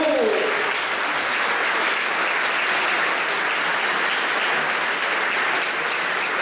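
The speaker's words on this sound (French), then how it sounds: "on applaudit Gaston Dubois" Sustained applause from a seated crowd at an amateur rugby awards ceremony fills the room, a thick, even roar of clapping that holds steady throughout, with a brief voice at the very start.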